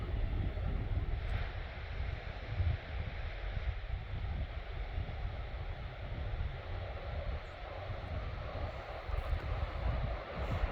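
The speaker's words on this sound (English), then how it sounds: "Up here there's a slight breeze." Slight breeze on a hillside above the Klamath River, a steady low rumbling rush of wind across the microphone with a broad airy hiss, continuous and even throughout with no voices.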